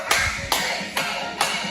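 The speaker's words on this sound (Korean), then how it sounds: "박수" Children clapping hands in a kindergarten play class, four sharp claps in a steady rhythm, close and fairly loud with no talking.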